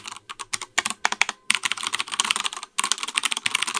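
Rapid, close typing on a Ducky mechanical keyboard with Cherry MX Brown switches and double-shot PBT keycaps, a dense run of tactile clacks with brief pauses and no talking.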